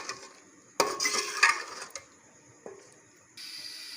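Chicken nihari with yogurt is stirred and fried in a pot, with a metal spoon scraping and clinking against the sides in short close bursts separated by quiet gaps, over a faint sizzle.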